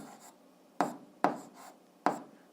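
Pen or chalk strokes while writing out a math solution, three or four sharp short scratches with brief tails, separated by quiet pauses, close and clear with no talking.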